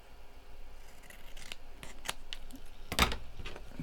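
Scissors snip through decorative Stamperia paper being trimmed for a handmade journal scrap holder, a handful of crisp separate cuts with one louder snip near the end.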